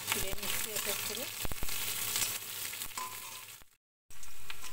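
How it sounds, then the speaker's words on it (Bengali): Panch phoron spices, dried red chillies and onion fry in oil in a wok, giving a steady close sizzle with scattered crackles and a few clatters that stops abruptly near the end before resuming. "কড়ায় তেল দিয়ে পাঁচফোড়ন, শুকনো লঙ্কা, পেঁয়াজ ফোড়ন দিয়ে দিয়েছি, দিয়ে এটাকে ভেজে নিচ্ছি।"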